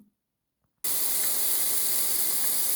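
Pieces of duck neck and duck fat start frying in a pan, a sudden steady loud sizzle that begins after a short silence and hisses on evenly.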